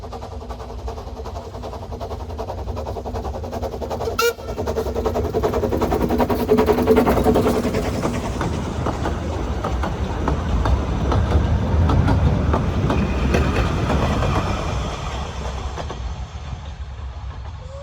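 A heritage steam train on the Talyllyn Railway passes steadily with a continuous rumble, rhythmic clatter of wheels and one sharp burst, loud and close throughout, with no talk.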